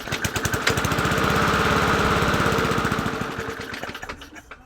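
A Yard Machines 20-inch push mower with a swapped engine runs close by at a rough, low idle, its rapid, slightly uneven putter steady and loud, then fading out near the end.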